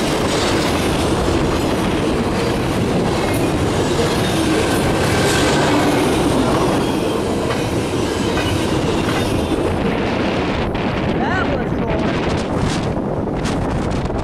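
An eastbound intermodal freight train rolls steadily past at close range, a loud continuous roar of wheels with clickety-clack joint beats and buffeting wind on the microphone, easing slightly toward the end.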